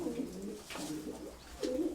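Pigeons cooing nearby, two or three soft throaty coos spaced across a quiet background.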